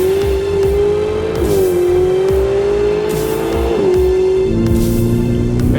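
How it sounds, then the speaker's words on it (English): Ferrari 488 GTB pulls hard in fifth gear from about 80 km/h. The loud engine note climbs steadily, with quick gear-shift dips, heard up close with no talking. "80 km/h acceleration. Acceleration in fifth gear."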